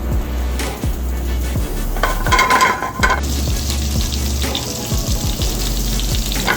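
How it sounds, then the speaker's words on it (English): Carrots sautéing with a few pats of butter in a saute pan give a steady close sizzle that runs throughout, with brief stirring scrapes and clinks and no voices. "we're gonna toss our carrots straight into a saute pan with a few pats of butter"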